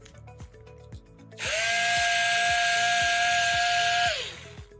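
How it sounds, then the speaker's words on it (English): A power driver spins screws back into a TS811 battery housing, whining at a steady pitch for about three seconds before winding down. Faint rhythmic ticks sit underneath. "Retighten the screws."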